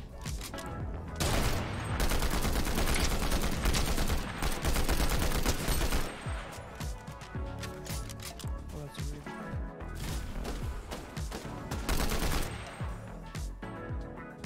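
Rapid sustained gunfire in a video game battle royale match, dense automatic bursts continuing almost unbroken at close range with brief lulls, while a player talks over it.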